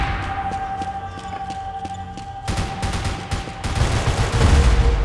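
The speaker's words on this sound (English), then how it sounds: "I hear grenades going off, but I do not see them." Grenades go off in a Max Payne 3 multiplayer match: a burst of rapid gunfire-like cracks gives way to heavier, rumbling explosive booms that grow louder toward the end.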